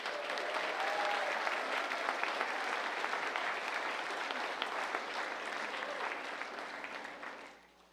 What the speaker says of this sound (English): can we please give everyone a round of applause?